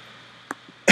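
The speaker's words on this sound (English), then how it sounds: "Excuse my cough." A single short cough bursts out close and loud after a brief throat sound.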